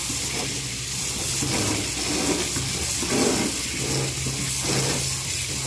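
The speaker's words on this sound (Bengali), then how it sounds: "ভালো করে এটাকে কিন্তু ধুতে হবে।" Tap water runs in a steady, hissing stream while taro stolons are washed in a kitchen, with faint splashing and handling underneath.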